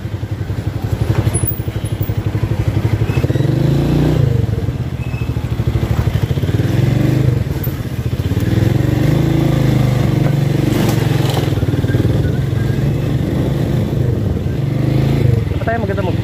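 Motorcycle engine running steadily up close while being parked near a market, a continuous low rumble with slight changes in pitch throughout.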